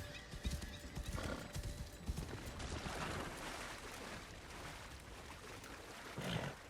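Horse hooves clop steadily in the video game Assassin's Creed Shadows over a dense, noisy background, with a whinny breaking through, fairly faint overall.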